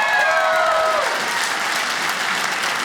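A comedy-special audience bursts into dense, sustained applause, a loud even wash of clapping from many hands throughout, with a brief tonal sound fading at the start.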